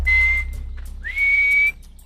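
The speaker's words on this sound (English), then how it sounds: "Those at the camp are now whistling to reach out to their friends" Two clear, sustained whistles from people at a camp calling to friends, the second rising in pitch before holding steady, carried over a low background hum.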